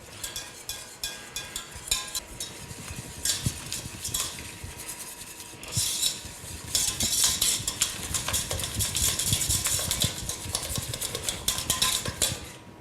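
A whisk clatters against a pan as cold milk is worked into hot roux off the heat for béchamel, a busy metallic scraping and tapping that grows louder and faster partway through.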